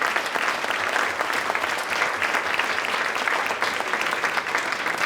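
A crowd at the Beaumont President's Reception 2018 gives the Smiley family a sustained round of applause, dense steady clapping throughout, loud and close.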